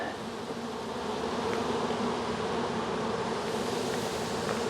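Honey bees swarm an overcrowded hive while it is being split in late May, making a dense, steady, close buzzing drone that fills the whole stretch without pause and with no talk.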